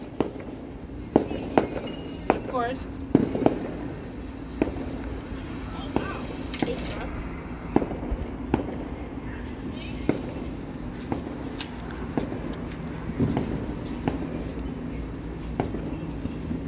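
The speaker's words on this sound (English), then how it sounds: "here's some fireworks over there in the distance" Distant Fourth of July fireworks pop and crackle in scattered bursts, some sharper reports among fainter ones, over outdoor ambience while people talk nearby.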